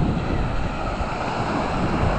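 Ocean surf at Litchfield by the Sea on a summer day, a loud, continuous wash of breaking waves with wind rumble on the microphone, no voices.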